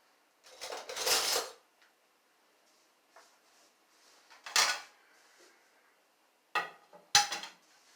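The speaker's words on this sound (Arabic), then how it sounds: "حله على البوتاجاز" A metal cooking pot handled on a gas stove, giving a few separate close metallic clanks and clatters with quiet gaps between them.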